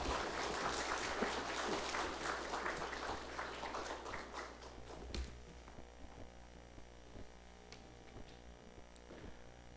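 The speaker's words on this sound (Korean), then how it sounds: "우리 뜨거운 박수로 환영하겠습니다." Congregation applause during a Sunday morning church service, a dense wash of many hands clapping for several seconds before tapering off into scattered claps over a steady low hum.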